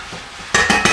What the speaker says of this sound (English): We're gonna take the wine and let the wine reduce a little bit